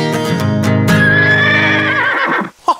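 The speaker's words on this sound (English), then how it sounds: "yes, the horses are running" A loud, close horse neigh: one long, shrill whinny that holds and wavers for over two seconds before fading, followed by a brief snort.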